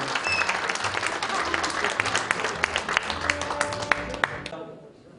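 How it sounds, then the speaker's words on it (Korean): Audience applause at an association officers' inauguration ceremony, dense sustained clapping from a crowd that tapers off and ends at the close. "뜨거운 박수를 함께 해주시면 고맙겠습니다"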